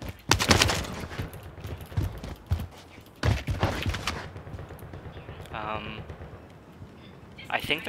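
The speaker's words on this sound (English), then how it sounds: "Getting shot from the other side." Gunfire from a rival team across the map in a multiplayer shooter, bursts of shots crackling loudly at the start and again midway, with voices talking over the exchange.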